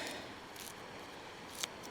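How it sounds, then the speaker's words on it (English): Scissors snip through a crab, cutting it in half for fishing bait on the West Sussex shore, a few short, faint crisp cuts over a quiet outdoor background. "Get my scissors, chop it in half down the middle."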